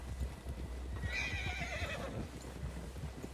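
A horse in Red Dead Redemption 2 gives a clear whinny mid-clip, set against a steady bed of clip-clopping hooves and low game ambience.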